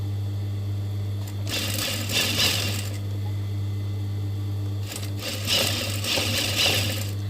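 Sewing machine stitching fabric for a zippered bag, two bursts of buzzing mechanical stitching separated by a pause, over a steady low electrical hum.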